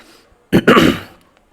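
One short, rough cough or throat-clearing burst, close and fairly loud, in an otherwise quiet moment.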